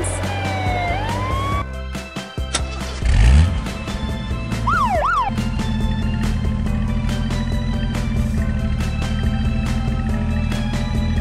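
A toy police car's electronic siren wails and warbles loudly, with sweeping rising and falling tones, clicks and a sustained buzzing electronic hum, no voices.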